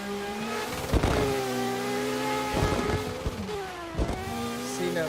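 Street-spec competition cars, including a Toyota Supra, running close together on a track, engines droning with rising and falling revs and sharp bursts recurring every second or two, loud and near.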